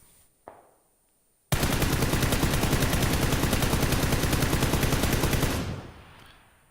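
A rifle fitted with a flash hider fires a long, rapid automatic burst of evenly spaced loud shots lasting about four seconds, preceded by a single brief click and ending in a fading echo.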